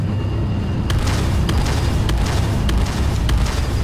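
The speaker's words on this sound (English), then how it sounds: "Turret destroyed." A turret being destroyed in the video game Battlezone, a heavy, sustained rumbling boom with a series of sharp cracking bursts popping through it at roughly half-second intervals, loud and close.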